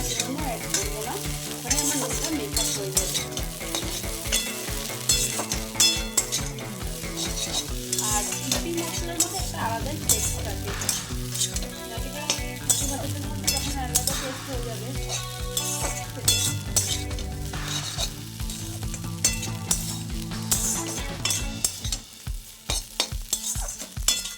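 Maggi noodles with masala are stirred and fried in a pan. A continuous close sizzle runs throughout, broken by frequent scraping stir strokes, with no talk.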